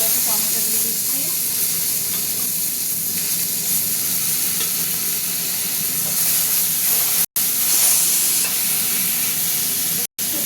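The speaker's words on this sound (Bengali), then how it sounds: "এই মশলাটা কষতে হবে।" Spice paste frying with tomatoes in a pan for a Malabar spinach and fish head dish, giving a dense, continuous loud sizzle with steamy hiss, close by, broken by two brief dropouts.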